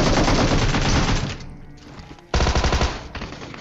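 A shooter video game erupts in rapid automatic gunfire, dense loud bursts of repeated shots broken by a brief lull before another volley.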